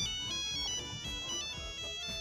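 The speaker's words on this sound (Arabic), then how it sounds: "اخويا بيرن." A phone ringtone plays loudly and steadily as a brother's call comes in, a continuous melodic tone pattern repeating close by with no voices over it.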